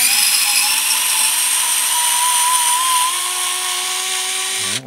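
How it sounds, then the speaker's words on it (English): An electric screwdriver removing screws during an electrical repair whines with a loud, steady motor tone that holds for several seconds, then dips briefly as it stops near the end. "It's an electric screwdriver."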